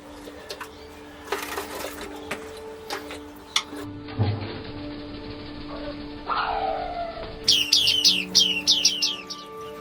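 Bearded reedlings chirp and twitter in an aviary in quick bursts, a few clear high calls standing out near the end over a quiet background with faint clicks.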